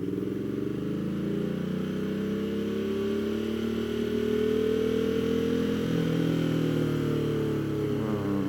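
A Ducati Multistrada touring motorcycle engine pulls in first gear, a close, continuous droning note that swells and shifts in pitch as it accelerates.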